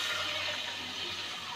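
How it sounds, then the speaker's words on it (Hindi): Water is poured from a glass into semolina for halwa, a steady rushing splash filling the whole short stretch at even loudness. "सबसे पहले हम पानी डालेंगे इसमें"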